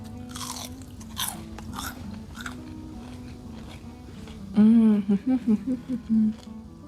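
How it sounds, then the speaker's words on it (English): Crisp, crunchy bites and chewing of fried carnivore-style food coated in pork rinds, loud and close, a sharp first crunch followed by rhythmic chewing, with faint talk early on. "They're nice and crispy. Let's take a bite."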